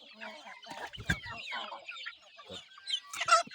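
Fighting cocks cluck and squawk in short, uneven bursts, close and fairly loud, with scuffling between calls and a sharper cry near the end.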